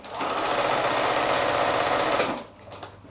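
A sewing machine runs at a steady fast stitch, sewing down pleats from the wrong side of quilting fabric. The close, continuous buzz lasts over two seconds, then stops abruptly and leaves a faint rattle.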